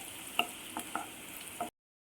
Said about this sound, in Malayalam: വെളുത്തുള്ളി, സവാള, ക്യാപ്സിക്കം, ഇത് 3 കൂടെ നല്ല രീതിയിൽ വഴറ്റണം.